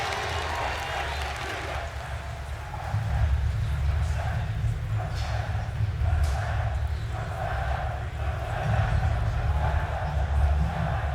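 Arena crowd at the Dota 2 International 2015 main event, a broad rumbling cheer that swells partway through and keeps going under a commentator's voice.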